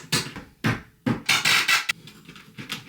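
A hammer knocks repeatedly at something stuck while moving office furniture, several sharp, close wooden knocks in an uneven rhythm, loud and with no talking.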